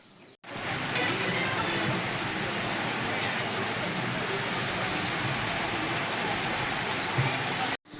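Steady heavy rain hisses across the whole stretch, loud and even, pattering on surfaces close by.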